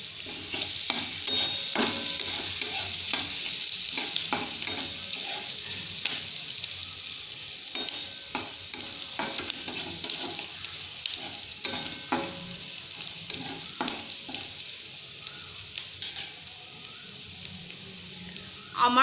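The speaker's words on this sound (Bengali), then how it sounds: "পেঁয়াজটা আমি লাল করে ভেজে নেব।" Chopped onions with green chilli and a pinch of salt frying in oil in a pan for a Bengali Maggi omelette, a steady close sizzle broken by repeated scraping strokes of a spatula stirring throughout.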